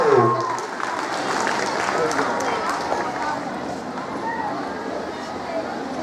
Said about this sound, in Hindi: वाव के साथ ताली बजाओ।